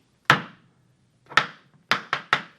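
Irish dance hard shoes strike a floor in five sharp, loud, close thuds. A single bang is followed by a pause, then a fast cluster of four, with no voices.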